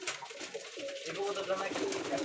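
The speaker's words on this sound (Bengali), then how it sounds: "এই যে এই কবুতরটা" A pigeon coos softly nearby in low, rolling murmurs, with people talking faintly over it.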